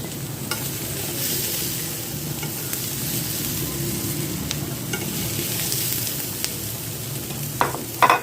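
Boiled potatoes sauté in a pan with a steady, close sizzle that holds for several seconds. A few faint utensil taps break in near the end.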